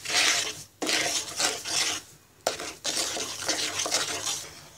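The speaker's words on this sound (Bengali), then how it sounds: "এবার চিনি এবং লবণটাকে আমের সাথে ভালো করে মিশিয়ে নিব।" A spoon stirs sugar and a pinch of salt into blended mango pulp in a pot, giving close, wet scraping and rasping strokes in repeated bursts with brief pauses between them.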